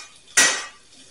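A single short scrape and clink of a utensil against a pan while stirring caramelized onions seasoned with coarse black pepper, one brief clatter fading quickly into quiet.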